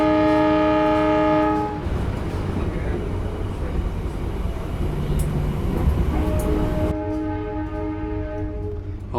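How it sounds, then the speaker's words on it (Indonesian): Dharmawangsa passenger train rolling through near Cirebon station, its loud horn blaring for the first couple of seconds and sounding again later, with heavy, steady rail rumble filling the gap between the blasts. "kereta api Dharma Wangsa persiapan melintas stasiun Cirebon"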